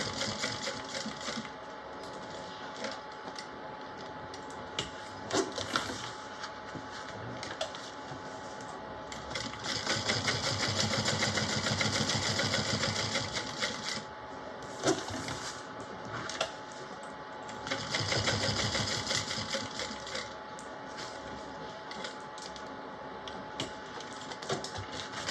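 A sewing machine runs in steady stitching bursts, a fast mechanical whir and clatter that swells louder around the middle and again later, with brief pauses between runs and no talking.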